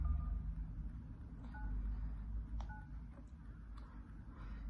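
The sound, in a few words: telephone dialing tones, redialing a number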